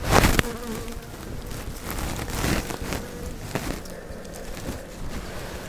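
A winter cluster of honey bees hums inside a hive in November frost, a steady close buzzing drone with a sharp rustle at the start and soft knocks scattered throughout.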